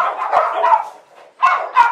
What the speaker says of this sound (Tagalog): Daming aso.